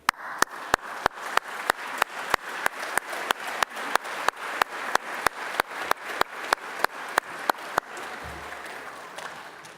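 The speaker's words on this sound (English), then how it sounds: "I would invite you to applaud your tutors and lecturers for their support" A graduation ceremony audience applauds its tutors and lecturers: a steady wash of crowd clapping, with one sharp, close clapper striking in an even rhythm about three times a second, before the applause stops abruptly near the end.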